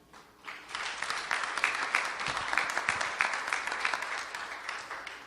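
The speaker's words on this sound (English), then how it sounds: "Can you please give yourselves a round of applause for coming," Applause from an audience at an international finance summit swells in after a quiet start and continues steadily as a dense patter of many hands, moderately close and without talk.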